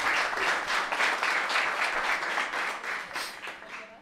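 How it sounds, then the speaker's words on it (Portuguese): Sustained, even applause from a comedy roast audience, a thick wash of many hands clapping throughout that tapers slightly at the close. "Mais uma grande salva de palmas para Ladilson, senhoras e senhores."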